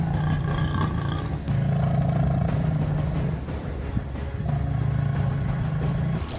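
A group of lions patrols a riverbank, letting out deep, drawn-out roars in repeated bursts that are loud and close. The roars are separated by short pauses, with no voices.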